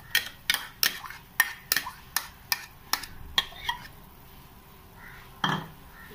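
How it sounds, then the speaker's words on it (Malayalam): Chopped onion tipped into a pot of chicken soup, a run of sharp clinks and taps from a utensil against the pot rim, evenly spaced and close, then a softer thud near the end. "ഇനി നമുക്ക് ഇതിലേക്ക് അരിഞ്ഞു വെച്ചിരിക്കുന്ന സവാള ചേർത്ത് കൊടുക്കാം."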